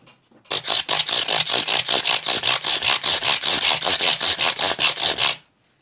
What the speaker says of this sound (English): we'll get rid of that 220 and we'll move into the 320, which will now just start to smoothen them up a bit.